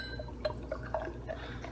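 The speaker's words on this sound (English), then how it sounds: "let's give it my aggressive pour like I always do" James E. Peeper 1776 Ale from Georgetown Trading Company is poured aggressively into a glass, giving a quiet run of close dripping and splashing liquid sounds.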